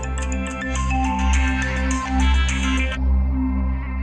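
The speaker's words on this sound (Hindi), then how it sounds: "कल्याणी दीदी का फोन" Phone ringtone playing as an electronic repeating melody over background music, sounding clearly for about three seconds before cutting off.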